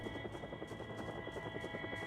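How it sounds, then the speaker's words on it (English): A helicopter passes overhead in the video game Project Zomboid, its rotor chopping in a rapid steady pulse over a constant drone, moderately loud with no voices. "Helicopter event."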